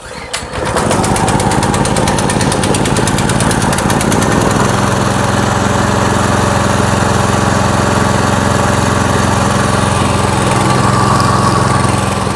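A small Weima 170F-L petrol engine with a reduction gearbox starts with a quick pull and then runs loudly and steadily, a buzzing, rattling drone close by with no talk.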